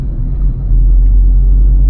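Inside a car, the engine gives a deep, steady rumble that swells louder and stays there as the car pulls away in third gear, with no talking.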